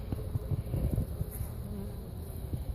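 Dense, steady buzzing of many honey bees close by during a hive inspection, a continuous droning hum with small fluctuations in loudness.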